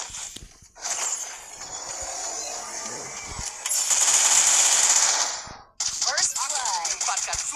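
Mini Uzi gunfire in the mobile shooter Free Fire, a loud, steady rattle of rapid automatic shots lasting several seconds, with a brief pause followed by further clattering game sounds.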